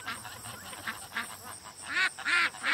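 Ducks quack in a loose series of close, nasal calls that grow louder and more frequent toward the end.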